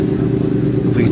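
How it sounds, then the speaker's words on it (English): An Aprilia V-twin racing motorcycle at the Manx Grand Prix Senior race, a loud, close, continuous engine drone with a throbbing, rumbling tone. "the Aprilia of David Milling. Very distinctive sounding machine"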